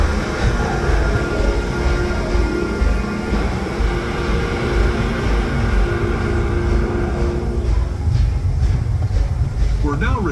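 The Disneyland Railroad train, pulled by the C.K. Holliday steam locomotive, rumbles along loudly and continuously with a low rolling drone and clattering wheels, while a voice speaks over the ride.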